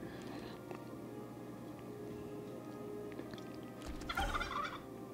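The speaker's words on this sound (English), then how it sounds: "Oh, that sounds like a chicken or a turkey. I think it was a turkey." A turkey gobbles once in a World of Warcraft game scene, a short burst of rapid warbling notes rising briefly over quiet ambient game sound.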